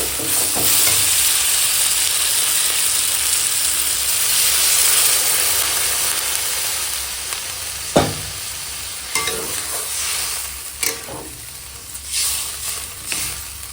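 Chicken necks and tomato masala sizzle loudly in a pan, a steady broad hiss that fades as water goes in, followed by a few sharp clatters and softer bubbling spits toward the end.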